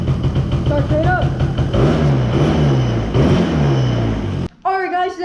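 A small engine starting and revving after its carburetor was cleaned, droning loudly with rising and falling pitch under overlapping talk, then cutting off abruptly near the end.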